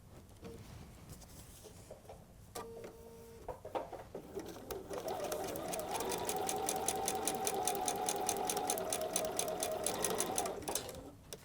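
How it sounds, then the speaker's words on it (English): Sewing machine stitching foundation paper piecing with a shortened stitch length and a Microtex size 70 needle, a few short bursts of stitching followed by a long, steady, fast rhythmic run at moderate volume. "we'll go ahead and sew on our shortened stitch length with our Microtex size 70 needle"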